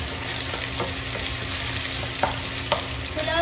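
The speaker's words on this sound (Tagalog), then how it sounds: "Kailangan paprito muna natin yung luya." Ginger fries in hot oil in a pan for squid adobo with a continuous close sizzle. A few light stirring scrapes and clinks sound over the frying.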